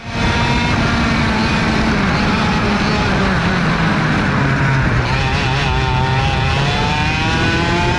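Racing kart on a worn practice engine running around an outdoor track, a loud continuous buzzing drone with shifting pitch as it accelerates and slows, close and constant throughout.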